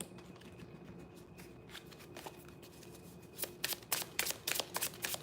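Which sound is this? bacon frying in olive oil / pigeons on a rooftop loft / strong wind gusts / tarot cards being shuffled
tarot cards being shuffled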